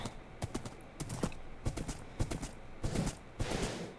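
Rhythmic clip-clop of horse hooves in short bursts, clear and close, with no talking, in Minecraft.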